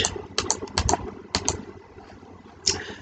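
Computer mouse clicking while working in ProtaStructure structural engineering software, a handful of sharp close clicks in quick clusters with short pauses and one final click near the end, no talk.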